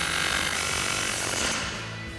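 An air hammer fitted with a flat-headed anvil hammers on a 2011-2019 rear-wheel-drive Dodge Charger's front suspension during control arm work, a loud, steady pneumatic rattle filling the whole stretch before easing slightly at the end.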